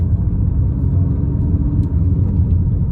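Car engine in second gear, slowing under engine braking while circling a roundabout, a steady low rumble heard from inside the cabin with no talk.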